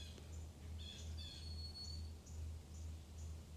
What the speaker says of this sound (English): Got the birds chirping, giving me that signal